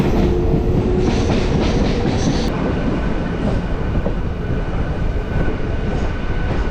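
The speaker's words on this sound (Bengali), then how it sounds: "এই হচ্ছে পাহাড়িয়া এক্সপ্রেস এটা নিউ জলপাইগুড়ি যাবে" The Paharia Express, a passenger train running from Howrah to New Jalpaiguri, rolls loudly and steadily through a station close by, with a continuous rumble and clatter of wheels on rail throughout.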